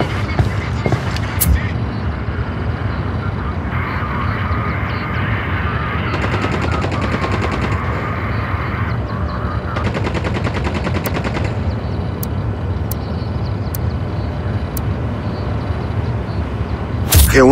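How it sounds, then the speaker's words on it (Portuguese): Bursts of rapid gunfire crackle back and forth over a steady low rumble in Tom Clancy's Ghost Recon: Wildlands, with sporadic single shots and short automatic volleys through the clip. "Unidades rebeldes estão trocando tiros."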